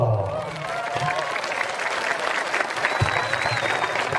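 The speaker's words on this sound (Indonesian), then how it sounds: "Tepuk tangan dulu loh" Loud crowd applause at an Islamic sermon, continuous dense clapping with some voices mixed in, filling the whole stretch.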